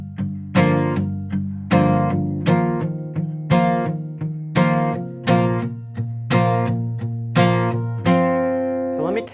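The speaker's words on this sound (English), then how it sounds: "you're palm muting, you're playing 8th note down strums" Palm-muted guitar chords struck in regular eighth-note down strums, each ringing briefly then decaying, played steadily close up with a final longer chord at the end.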